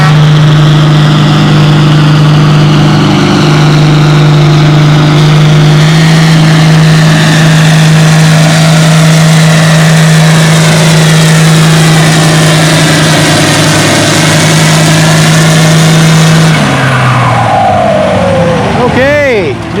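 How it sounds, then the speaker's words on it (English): Pulling tractor backing up to the sled at a spring tractor pull on a rain-soaked clay track, a loud, steady engine drone with a strong low hum that winds down near the end. "The next tractor that's hooking to it is backing up to the sled right now to drag it up to the track"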